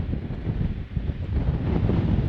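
Wind rumbling against a microphone outdoors at City of Rocks, a steady low, muffled roar with no talking.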